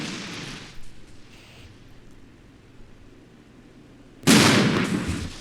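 Artillery and gunfire in the war game Armored Brigade, with faint distant thuds and rumble followed by a sudden loud, broad blast that keeps roaring to the end.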